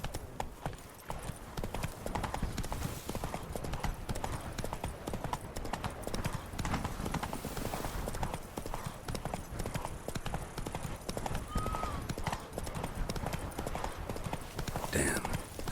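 Roach the horse gallops in The Witcher 3: Blood and Wine, its hooves making a fast, steady clip-clop that runs throughout, close and prominent, with faint voices underneath.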